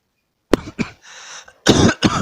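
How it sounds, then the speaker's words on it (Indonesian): A person coughs several times close up, a few sharp bursts separated by short pauses and a brief breathy throat sound. "Kok jadi batuk?"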